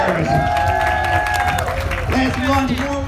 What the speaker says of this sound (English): A big cheer for our 3 volunteers.